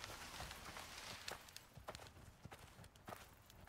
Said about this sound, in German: Das Pferdchen